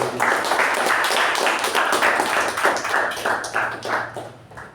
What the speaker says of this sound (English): can we have a round of applause for Toastmasters?